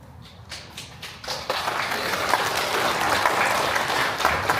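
A county town-hall audience during the county head's annual visit to Daechi-myeon breaks into applause, starting with a few separate claps and swelling into steady, dense clapping that fills the room and holds to the end.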